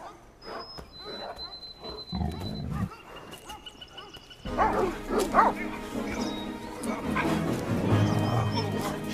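Two dogs bark repeatedly, mixing with people talking, the barking growing busier and louder in the second half.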